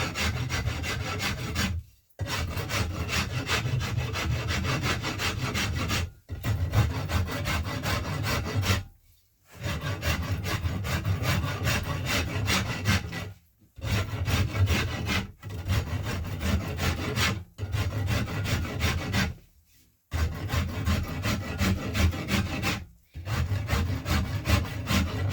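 A hand tool shaves a yew English longbow limb while roughing in its taper. Long, steady scraping passes are loud and close, separated by brief silent breaks as each stroke ends.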